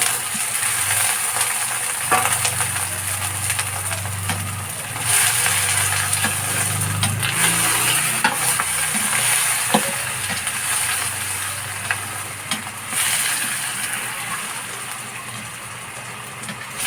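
Meat sizzling and frying in a hot pan for Filipino pochero, a steady close crackle with occasional clinks of a utensil against the pan, no voices.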